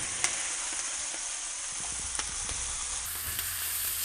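Potatoes fry in a pan with a quiet, even sizzle, and a few brief scrapes and taps from stirring sound nearby with nobody speaking.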